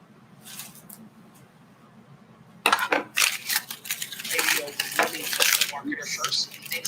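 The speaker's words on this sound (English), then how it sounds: "I'm just going to get rid of some of this onion peel and stuff like that." Onion skin is peeled away and discarded, with quiet handling at first, then a sudden burst of close, crackly, papery rustling and scraping that continues unevenly to the end.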